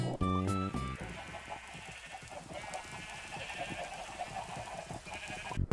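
Many sheep bleating on a crowded Minecraft server sheep farm, overlapping game bleats forming a dense constant chorus, fairly close, with no speech.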